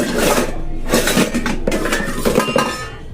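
Metal pots, lids and utensils clatter and clink in bursts while someone rummages for a lid in a home kitchen before making rotis, close and fairly loud, with no talking.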